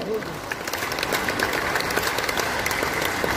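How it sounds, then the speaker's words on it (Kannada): A crowd of staff and members of the public applauds at a National Road Safety Week inauguration in Mangaluru, with steady, dense clapping filling the whole stretch and a few voices mixed in. "ನಮ್ಮೆಲ್ಲ ಸಿಬ್ಬಂದಿ ವರ್ಗದವರು ಹಾಗೂ ಸಾರ್ವಜನಿಕರು ಚಪ್ಪಾಳೆಯ ಮೂಲಕ"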